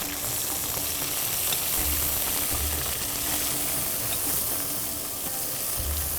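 Chicken for murgh-e-shalimar sizzles steadily as it fries over high heat in a pan, a continuous close hiss and crackle with no talk.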